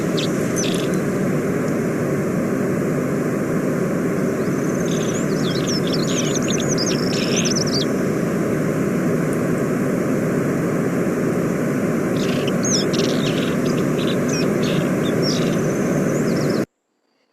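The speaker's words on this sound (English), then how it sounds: "And the second species is the alpine thrush." Two bursts of bright, fluting alpine thrush song, one around the middle and another near the end, over a steady broadband roar of wind or distant engine noise.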